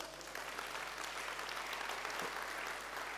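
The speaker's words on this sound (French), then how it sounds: "On peut applaudir Manon, s'il vous plaît." Steady audience applause at an energy-transition awards ceremony, a continuous dense wash of clapping at moderate volume throughout with no speech over it.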